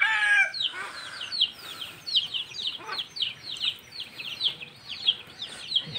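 Backyard broiler chickens chatter and cluck in a steady, fairly close run of short, high calls, with a louder squawk at the very start and a faint hiss of background noise.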